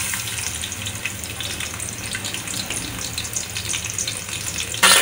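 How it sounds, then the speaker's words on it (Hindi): Two onions dropped into a cup of hot oil hiss in a steady, dense frying sizzle that runs throughout, close and fairly loud, with a sudden louder burst right at the end. "अभी तेल हो गए गरम, अभी इसमें ऐड करती हैं 2 प्याज"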